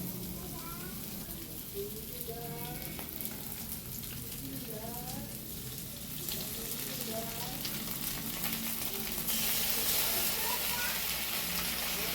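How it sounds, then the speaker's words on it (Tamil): Ginger garlic paste sizzles and fries steadily in a hot pan, with stirring scrapes and a louder burst of crackling toward the end. "இப்போ இது கூட நம்ம இஞ்சி பூண்டு பேஸ்ட்டு ஆட் பண்ண போகிறோம்"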